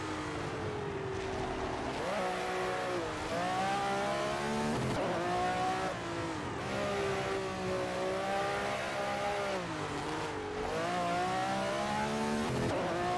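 A 1967 Ferrari 312/67 racing around the Nordschleife in a racing game, its engine screaming close and continuous while revs climb and drop repeatedly with gear changes.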